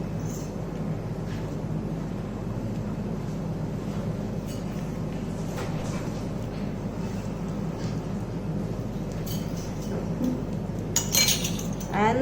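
Nankhatai dough being mixed with a tablespoon of curd in a bowl: steady soft scraping and light clinking of a utensil against the bowl, continuous and close, with a few sharper clinks near the end.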